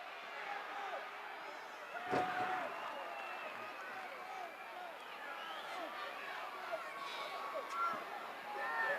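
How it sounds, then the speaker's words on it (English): A Houston wrestling crowd at a Dusty Rhodes versus Ken Patera match roars and screams in a dense, sustained wash of voices, with a few sharper thuds and bursts rising from the din. "this crowd here is pro Dusty Rhodes, and they are screaming their approval of everything he does"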